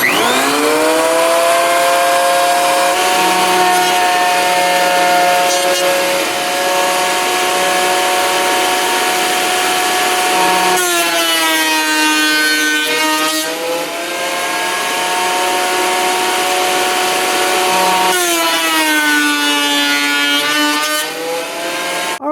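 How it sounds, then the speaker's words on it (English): Woodworking planer feeding a CNC-routed wooden sign, a loud continuous motor whine with strong harmonic tones that bend downward as the board passes through, repeating in several passes with no talk. "Next step is to throw it in the planer."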